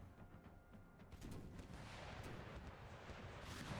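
Artillery in the Master of Command strategy game, a low, continuous rumble of distant cannon volleys that swells after the first second and keeps rolling, thick and muffled, with no voices.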